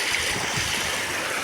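Water flows steadily at a natural spring, a continuous, fairly loud rushing wash with no pauses.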